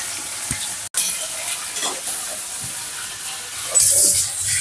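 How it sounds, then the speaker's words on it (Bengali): Chowmein noodles stir-fried in a hot pan with vegetables and fried chicken, a steady close sizzle with stirring scrapes and a brief drop out near the start, growing louder toward the end. "সবজিগুলো ভাজা ভাজা হয়ে গেছে, এখন এই যে ভাজা চিকেনগুলো দিয়ে দেবো।"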